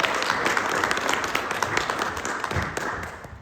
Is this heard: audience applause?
yes